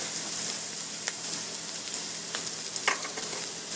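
Flour and black pepper being cooked and stirred with onions in a pan into a roux, a soft steady sizzle with occasional scraping stir sounds, close and fairly quiet, no voices.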